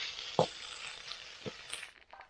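A nearly finished fish fries in oil over a village clay stove, with a soft, steady sizzle and a few sharp pops and crackles scattered through it.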